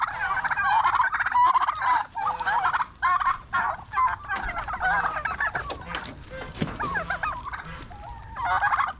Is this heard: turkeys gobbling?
yes